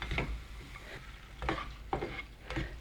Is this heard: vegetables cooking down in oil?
yes